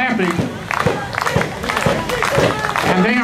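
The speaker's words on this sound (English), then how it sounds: "And now the fans clapping." Wrestling fans clap and cheer at a live tag-team match, a steady crowd roar with scattered claps and shouted voices running throughout.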